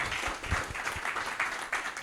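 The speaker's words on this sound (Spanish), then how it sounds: "Un aplauso, un aplauso." Audience applause at a talk-show-style panel discussion, a brief burst of many hands clapping at moderate distance with a faint voice underneath.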